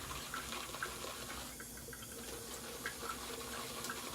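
Water trickles from a tap into a shaving lather bowl holding soap, a steady, fairly quiet running splash heard alone for about four seconds.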